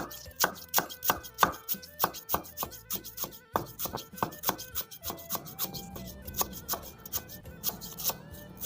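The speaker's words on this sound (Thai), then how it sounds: "จะซอยตะไคร้ซอยตะไคร้ใส่ตัวนะครับ" Lemongrass sliced with a knife on a board, a fast steady run of sharp close chops that keeps going for several seconds before loosening into a slower, scattered rhythm.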